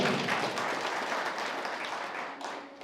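Farmers applauding at an outdoor meeting on biochar and soil carbon, a steady wash of many hands clapping together for about three seconds, loud and continuous before tapering slightly at the end.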